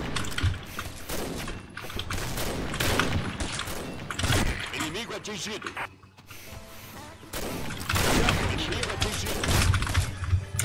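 Rapid gunfire bursts from the online shooter Combat Arms, loud and dense across the whole stretch, with booming low thumps and a brief lull midway, over continuous game audio and a talking voice.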